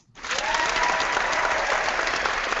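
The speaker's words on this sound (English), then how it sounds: "give him a round of applause, D-Lake." A studio audience on a live talk show breaks into loud applause for a guest, the dense clapping rising sharply from silence and holding steady and full to the end.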